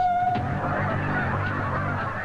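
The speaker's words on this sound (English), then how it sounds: "Thousands of hungry geese." A large flock of geese honks continuously, many overlapping calls blending into a dense, noisy chorus with no voices.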